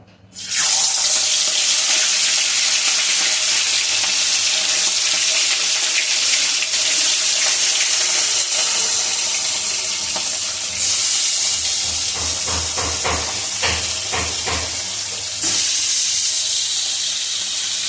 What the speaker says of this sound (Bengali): তেল গরম হয়ে গেছে, এবার মাছ দেওয়া হবে।